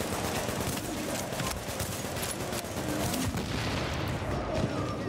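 Dense, continuous gunfire in the shooter game The Division, a loud rapid barrage of shots and booms packed together without pause for the whole stretch.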